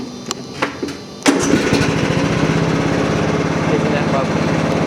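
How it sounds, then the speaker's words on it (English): A lawn mower tractor engine cranks briefly and catches at about a second in, then settles into a loud, steady, close running drone that fills the rest of the clip. "I believe we're going to start the engine now."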